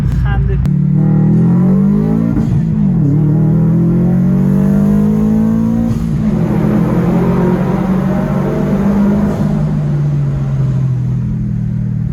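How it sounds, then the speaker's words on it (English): A Buick fitted with loud blast-pipe exhaust revs hard nearby, its throaty drone climbing and then slowly sagging in pitch as it holds a steady, heavy roar throughout. "It's a Buick with blast pipes and a slammed Accord."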